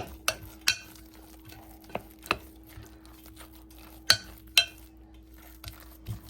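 A spoon mixes a thick batter of buttered mashed potato and onion for potato pancakes in a bowl, giving soft stirring with scattered sharp clinks against the bowl, close and quiet.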